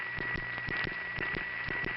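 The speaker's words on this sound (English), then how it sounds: "after you dial your first digit and dial tone breaks, this is the sound you hear on the sender." Sender noise in a panel telephone switching office, heard on a payphone line once the first digit is dialed and dial tone breaks: a steady electrical hum carrying a regular, rapid train of clicks, with no voices.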